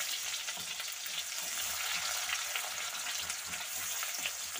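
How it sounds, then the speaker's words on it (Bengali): Onions and potatoes frying in plenty of oil in a pan, a steady close sizzle with faint stirring and no talk. "পেঁয়াজটা লাল লাল করে ভাজার দরকার নেই, আলুর সাথে একসাথে ভেজে নেব"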